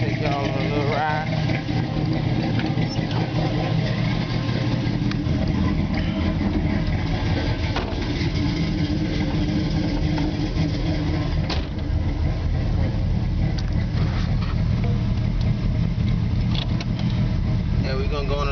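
A 500hp 1985 Oldsmobile Cutlass with a big Comp cam rumbles loud and close from inside the car, a heavy continuous engine drone with choppy low-end throb as it drives, voices talking over it.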